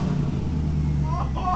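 A 1998 Camaro Z28 with a Borla catback exhaust rumbles at idle right after startup, a deep steady low drone heard up close, with voices starting near the end.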